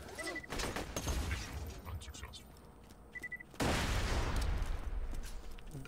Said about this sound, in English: Ripping and tearing through robots. It really helped get having this SMG.